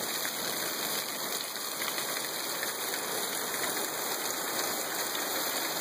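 Rain falling on Mount Lemmon, Arizona, north of Tucson, on the 4th of July: a steady, dense hiss of rainfall that continues without pause, with no talking.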